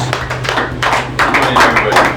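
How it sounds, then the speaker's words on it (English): An audience at a business training session claps as a speaker comes up to the front, a loud, close, dense spatter of hand claps over a low steady hum. "Clap for him as he comes"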